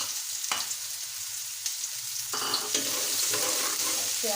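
Onion slices drop into hot oil already fragrant with roasted whole spices, including black cardamom, for an aloo chicken curry. A loud, steady sizzle swells up partway through and continues, with a few light stirring knocks.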